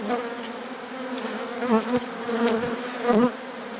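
Honeybees buzz steadily and close up at an opened test beehive during a varroa mite treatment, a continuous drone with wavering pitch as individual bees pass near.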